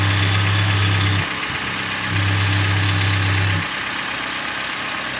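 A 2017 Toyota Avanza Grand New engine, running on cooking oil instead of motor oil and heavily sludged, idles with a loud, close, low drone whose strong hum cuts out and returns twice.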